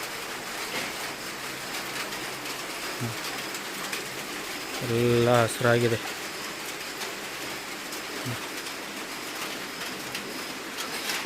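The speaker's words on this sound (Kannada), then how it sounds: "ಎಲ್ಲ ಸಿಕ್ಕಾಪಟ್ಟೆ ಮಳೆ ಬರ್ತಾ ಇದೆ." Heavy rain pours steadily outdoors, a dense close hiss that fills the whole stretch, while someone speaks briefly in the middle.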